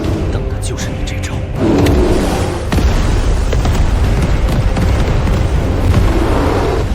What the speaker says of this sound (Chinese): 老天爷啊，那是矿区爆炸了！